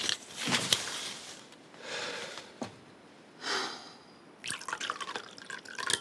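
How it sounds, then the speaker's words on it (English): A drink poured into a glass in a quiet room, several short bursts of splashing liquid separated by pauses, with light clinks and sniffs between them. "Let me pour you a drink."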